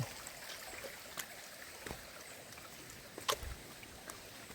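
Water runs along a stream bed near a wooded trail, a faint, distant, even rush with occasional small splashes and trickles and no speech.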